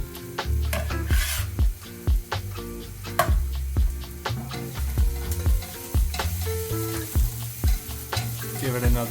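Food sizzling in a pan while a utensil stirs and scrapes it, a continuous frying hiss broken by frequent sharp knocks and scrapes at an uneven rhythm, close and fairly loud with no talking.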